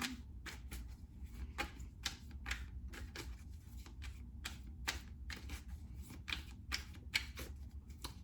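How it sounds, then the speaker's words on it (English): Tarot cards are shuffled by hand in quick, crisp riffling bursts, repeated many times in a steady rhythm, close and fairly quiet with no talking. "So I'm just going to shuffle a few times"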